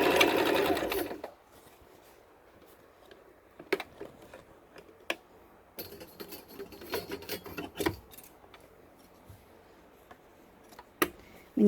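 Sewing machine stitching a takiya skullcap, a loud burst at the start and then scattered short clicks and ticks of the mechanism through a quiet room, with no voice.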